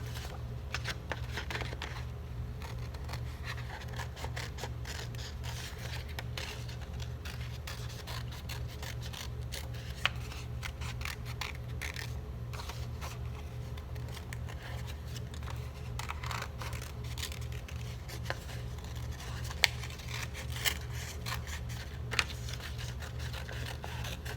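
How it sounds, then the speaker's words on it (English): Scissors snipping through paper to cut out a silhouette, a steady run of soft, close crisp cuts and rustles over low background hum, no talking. "Almost done cutting."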